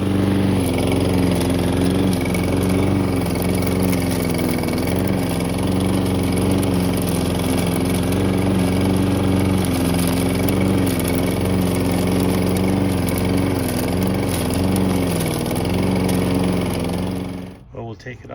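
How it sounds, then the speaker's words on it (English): A lawn mower fitted with a detachable dethatching blade and a bag, power raking a lawn. The engine drones loudly and steadily close by with slight wavering in its pitch, then drops away at the end. "Let's go do some power raking."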